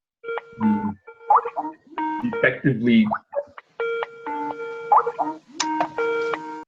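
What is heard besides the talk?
phone tones in the background of a Zoom call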